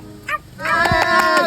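A voice imitates a newborn puppy with short, high whimpering yelps and a drawn-out squeal, close and loud, in a comedic mimicry performance.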